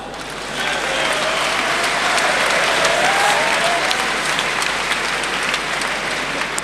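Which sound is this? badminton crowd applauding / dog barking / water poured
badminton crowd applauding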